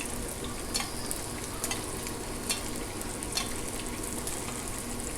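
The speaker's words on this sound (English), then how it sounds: "Crack it in a small bowl and beat it just lightly, right?" Egg lightly beaten in a small bowl for katsudon, a fast, repeated soft clicking and sloshing of utensil against the bowl, close and continuous with no talk.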